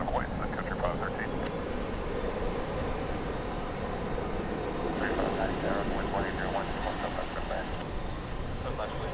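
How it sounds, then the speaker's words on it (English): An American airliner takes off at DFW International Airport, a continuous broad roar of jet engines heard from a distance with some wind noise, and a voice talking over it throughout. "And there goes American Flight 524, and that is off to Los Angeles."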